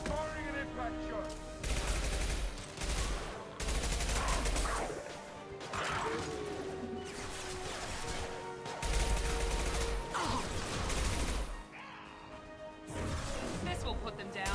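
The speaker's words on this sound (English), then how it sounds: "Firing an impact shot." Impact-shot gunfire in the Mass Effect 2 game: loud, near blasts and crashing bursts repeat in rapid clusters, some rattling like a fusillade, with voices and combat noise mixed in.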